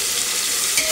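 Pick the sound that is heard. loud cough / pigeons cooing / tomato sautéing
tomato sautéing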